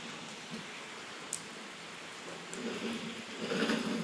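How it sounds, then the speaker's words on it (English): Steady rain falls outdoors as an even, soft hiss, growing somewhat heavier toward the end, with a few faint sharp taps. "playing outside in the rain"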